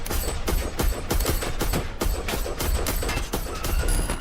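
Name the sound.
gunfire sound effect, repeated shots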